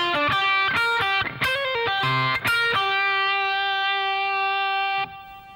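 A distorted electric guitar plays a quick swung classic rock lick of several notes, ending on a long sustained note that rings out, loud and close.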